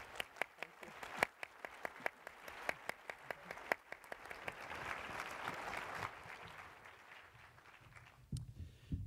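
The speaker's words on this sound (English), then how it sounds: "we can have a big round of applause for Dr." Audience applause at the CSPC 2019 science policy conference for Canada's Chief Science Advisor Dr. Mona Nemer, heard as loud sharp claps at first that settle into a steady round of clapping and then fade out near the end.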